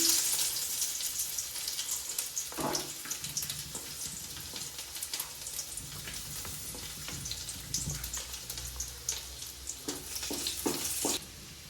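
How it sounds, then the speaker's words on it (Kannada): Garlic frying in hot ghee for white sauce pasta, a close, continuous crackling sizzle with scattered pops and occasional stirring scrapes, fading slightly at the end, no voices. "ಈಗ ಗಾರ್ಲಿಕ್ ಹಾಕಿದ್ದೀನಿ."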